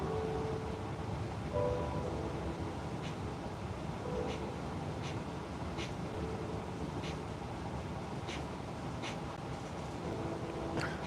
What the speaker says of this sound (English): Did you hear the train, Kathy? Hear the train go by?